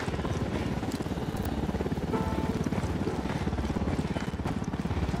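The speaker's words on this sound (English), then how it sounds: "Helicopter incoming." A helicopter approaching in the video game Ghost Recon Wildlands, its rotor giving a rapid, steady, pulsing chop that stays loud and close for the whole stretch.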